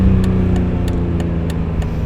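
Steady engine drone from inside a BMW E46 M3 with an SMG gearbox as it downshifts into second gear, the tone holding fairly even with faint periodic clicks over the continuous hum.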